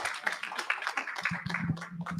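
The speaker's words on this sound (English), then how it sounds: "Oh, please, I can't hear your clap." A conference audience at a breast cancer oncology forum applauding, a scattered patter of hand claps with uneven bursts, fairly faint and short-lived.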